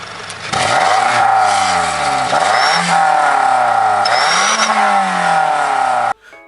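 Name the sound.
fake turbo whistle device in car exhaust pipe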